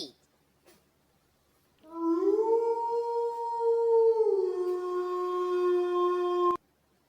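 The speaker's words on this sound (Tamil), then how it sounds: "நரி," A fox howls in a wild-animal setting: a single drawn-out wavering howl that rises and holds for several seconds before cutting off sharply, loud and clear with no talk.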